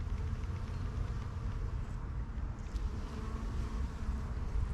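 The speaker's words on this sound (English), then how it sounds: "Look at all the bees." Bees buzz steadily around flowering cotton lavender in a botanical garden, a soft continuous insect drone mixed with outdoor wind noise and no talking.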